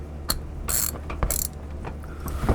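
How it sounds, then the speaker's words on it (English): A 3/8 ratchet with no socket snugs down the transmission drain bolt on a 1998–2002 Honda Accord with a four-cylinder engine and automatic transmission. Several short bursts of clicking come close up, separated by brief pauses. "Get a 3/8 ratchet,"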